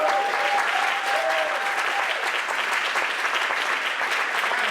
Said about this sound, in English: Clap it up yourself